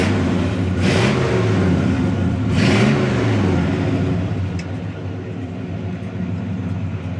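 A 1967 Chevrolet Chevelle SS engine rumbles low and steady, with two sharp rev bursts early on before settling back to a throaty idle.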